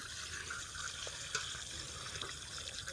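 Water pours steadily into a bucket from a tap for watering a garden, a continuous rushing splash that is close but fairly soft, with no talking.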